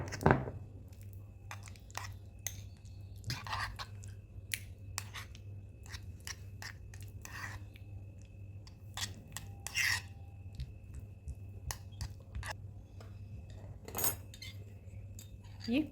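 A spoon scrapes and clinks softly against a bowl while strained yogurt dip is mixed, light irregular taps and scrapes repeating close by over a low steady hum, with faint quiet sounds of someone nearby.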